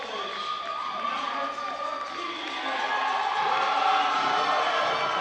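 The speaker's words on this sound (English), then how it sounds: "This crowd is ecstatic" A crowd at a men's volleyball championship gold medal game cheers and shouts continuously, the roar swelling louder toward the end, with whoops mixed in across a large hall.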